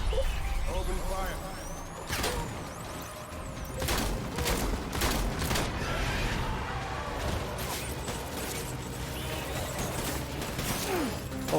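Bursts of gunfire crackle through a firefight in Death Stranding, with sharp volleys repeating across several seconds alongside game effects and a voice speaking.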